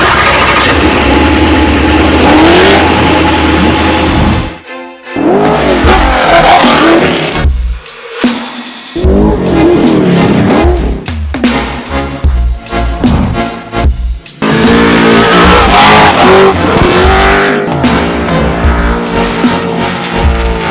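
A 1000 horsepower trophy truck engine revs loudly in repeated bursts, roaring up and briefly dropping off between blips, close and dominant throughout.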